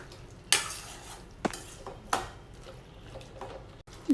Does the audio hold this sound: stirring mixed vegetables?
yes